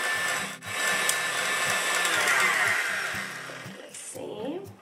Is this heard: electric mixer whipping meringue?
yes